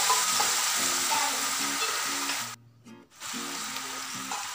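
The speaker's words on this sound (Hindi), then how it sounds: "बस 1 से 2 मिनट तक हम भूनेंगे इनको" Garlic and green chili paste frying in a pan, a close, steady sizzle with soft stirring knocks, dropping out briefly midway before resuming.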